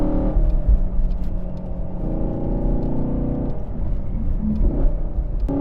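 A Chevrolet Camaro engine hums and rumbles steadily while driving, rising into a smooth rev midway before settling back, heard from inside the moving car with no talk.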